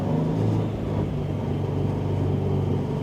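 A 2.34-litre G30-770 car with a Link G4x engine management system accelerating hard in first gear, engine roaring loudly and steadily with a sustained whining tone from the differential running throughout.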